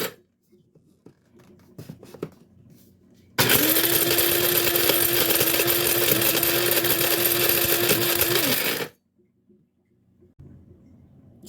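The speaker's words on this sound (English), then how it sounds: "It's a wet dry grinder, which is different than a coffee grinder." A wet-dry grinder pulverizes dried ashwagandha root with a loud, steady motorized whir that lasts about five seconds, with quiet handling noises before and after.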